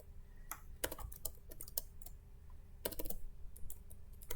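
Quick clusters of computer keyboard keystrokes tap out a number in scientific notation, soft close clicks in short bursts with brief pauses between them.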